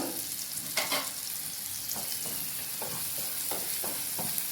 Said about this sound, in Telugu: టమోటాలు కూడా బాగా ఫ్రై అయిపోయినాయి